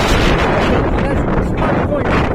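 Strong wind gusts buffet the microphone on a mountain trail in the Sainte-Baume, a loud continuous roar and rumble filling the clip.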